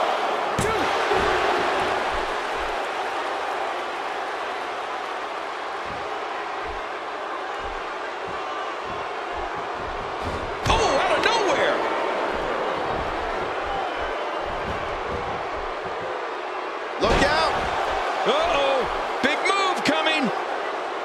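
A wrestling crowd at a women's indie match keeps up a steady roar, with sharp slams and two loud surges of cheering, while a commentator talks over it.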